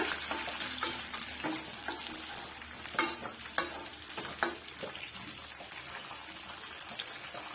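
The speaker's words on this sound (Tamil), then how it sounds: "ஒரு கைப்பிடி அளவுக்கு திராட்சை பழம் சேர்த்து நல்லா வந்து மிக்ஸ் பண்ணி விட்டுக்குங்க" Cashews and raisins frying in ghee for sweet pongal are stirred in a pan, with a constant sizzle broken by repeated spoon scrapes and taps in an uneven rhythm.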